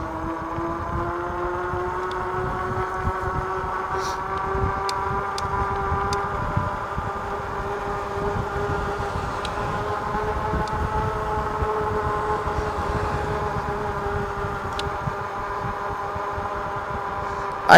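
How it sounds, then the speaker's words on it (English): A steady droning hum of tires rolling fast on pavement, heard from an Andsky E300 e-bike at speed, with a tonal whine that stays constant throughout. "There is some tire sound."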